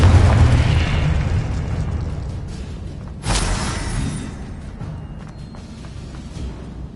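A Confringo spell explosion in Hogwarts Legacy on PS5 booms loudly, with a deep rumbling blast that decays slowly, then a second sharp burst midway, all dense and continuous without talk.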